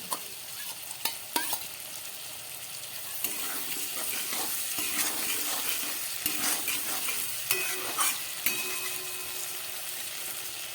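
Potatoes, peas and tomato with ginger paste sizzle steadily in a pan while a spoon stirs and scrapes, with sharp clinks of utensil on metal, close and continuous, no voices.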